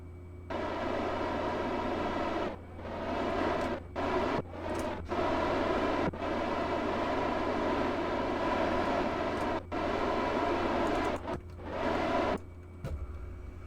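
Kerbal Space Program spacecraft, the orbiter Endurance, reentering the atmosphere after a two-orbit mission: a loud, continuous roaring rush of plasma and wind noise with a droning hum, briefly dipping and cutting out a few times.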